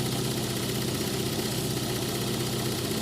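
A Toyota Corolla engine idling while warming up after hard starting, a steady, continuous rumbling drone with a faint rhythmic pulse, close and unchanging throughout.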